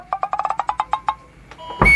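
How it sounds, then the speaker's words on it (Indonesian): Doorbell pressed at a house entrance, a quick run of about ten bright electronic chime pulses, near and clear, then a sudden louder burst of noise at the end. "Bel nyaut tuh pencet ge"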